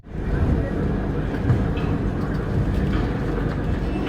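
Passenger train bound for Tirupati, heard as a steady, loud rumble of wheels and carriage noise from on board, continuous and even throughout.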